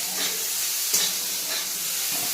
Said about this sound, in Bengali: তো পেঁয়াজগুলো এবার একটু আমি ভেজে নেব।